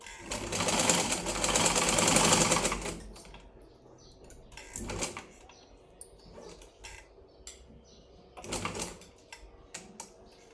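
A sewing machine stitching a lined blouse runs in a loud burst of about three seconds, then gives two shorter bursts later with quiet handling clicks between them.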